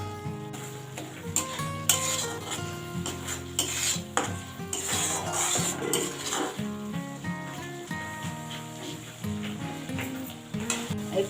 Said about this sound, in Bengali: মাঝে মাঝে মশলাটা আমি নেড়ে নেড়ে দেবো